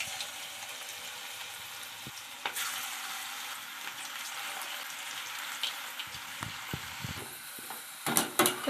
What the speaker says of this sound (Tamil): இதை நம்ம இப்போ எண்ணெயில் போட்டு எடுத்துக்கலாம்